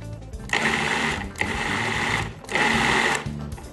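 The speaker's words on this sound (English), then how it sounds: "So I'm gonna give this a whir around in the food processor." A food processor blends roasted salsa with a loud, close motor whir that runs in three pulses and stops briefly between each burst.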